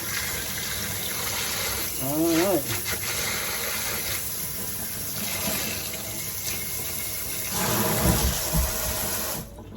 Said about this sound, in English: If it's not, just put the water on it and it will just dissolve.